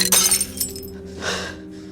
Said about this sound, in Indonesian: tanpa sengaja dia menyenggol sebuah gelas dan sampai pecah.